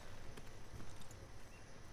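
Horse hooves clip-clop at a steady walking pace in The Last of Us Part II, a soft, continuous patter of footfalls over a low ambient rumble with no one speaking.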